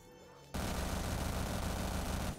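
Vector submachine gun emptying its magazine in a rapid, unbroken stream of shots in Black Ops 3 Zombies, loud and dense for about two seconds after a brief lead-in.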